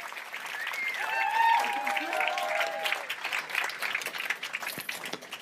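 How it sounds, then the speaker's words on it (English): A crowd applauds steadily, with scattered whoops and cheers rising above the clapping before it thins out toward the end. "Let's give a round of applause, please."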